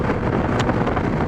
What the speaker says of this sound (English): Woo, that's some wind.